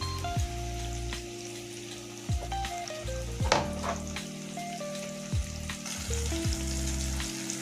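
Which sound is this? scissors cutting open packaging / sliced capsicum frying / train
sliced capsicum frying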